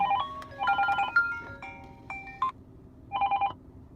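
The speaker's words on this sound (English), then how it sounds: "Oh, I only have one phone ringing." Telephone ringing in bursts against a low background hum: several electronic ring and tone pulses, then a pause, then one more burst, fairly close and clear.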